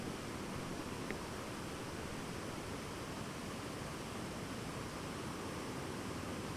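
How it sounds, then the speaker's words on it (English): Steady running water washes as constant broadband noise in the background, even and unbroken throughout with no voices over it. "y'all can compare what the background sounds like, running water"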